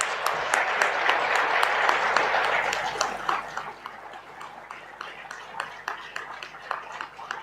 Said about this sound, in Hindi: आप दौड़कर इतनी मेहनत करके आई हैं तो इनके बारे में भी जोरदार तालियां बजाएं